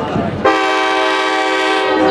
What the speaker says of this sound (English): here comes our Reading and Northern train